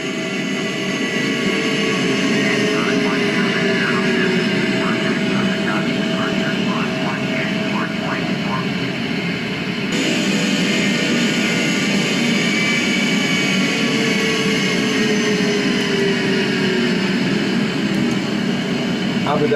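A Boeing 777-200LR in FSX, an Etihad flight climbing out of Abu Dhabi on runway 31, gives a steady, loud jet-engine roar with a broad airy rush. Faint radio-style talk runs through it.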